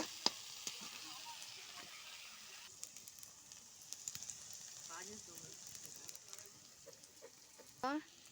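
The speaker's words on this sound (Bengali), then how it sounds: "হয়ে গেছে ছাতু ভাজাটা দেখো কতটুকু হয়েছে" Sattu flour dry-roasting in a pan gives a soft, steady sizzling hiss, broken by occasional scraping stirs. It stays quiet and close throughout.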